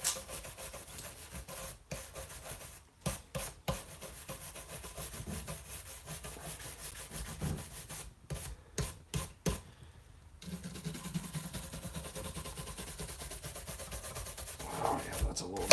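Brush scrubbing grime from the frets of a BC Rich Mockingbird guitar during a repair and setup, a steady close scratchy rubbing with short back-and-forth strokes and brief pauses, heard alone.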